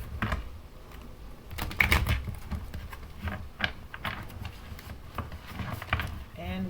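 Tarot cards are shuffled in quick riffling bursts, close and crisp, with short pauses between shuffles.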